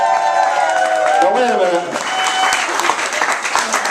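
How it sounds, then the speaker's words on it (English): A live audience bursts into applause and some cheering after a magic trick, a dense burst of clapping that fades off, with a voice speaking over the start. "Give him a round of applause, ladies and gentlemen."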